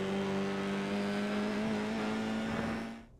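A Formula iR-04 single-seater's engine drones at high revs on the Suzuka circuit in iRacing, a steady loud tone held throughout before cutting away abruptly at the end.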